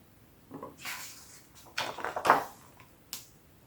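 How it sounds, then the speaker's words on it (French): A door opens as a sound effect in a French children's tale of the wolf and the seven young goats: a few close clunks, a scraping rattle and a final knock, with quiet gaps between them. "Ils ouvrirent la porte."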